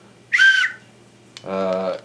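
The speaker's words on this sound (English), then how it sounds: "plus this whistle" An emergency whistle from a 72-hour survival kit is blown twice, up close: a short shrill blast, a brief gap, then a longer steady blast.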